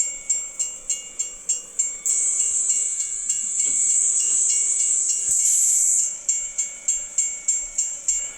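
Rhythmic warning bell at a rail crossing in a bus simulator video game, interrupted by a long steady hissing rush as a train passes, then the bell resumes, sounding synthetic.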